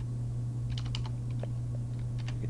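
Typing on a computer keyboard to enter a short smart phrase: a quick, soft cluster of key clicks over a steady electrical hum, fairly quiet and close, with no talking.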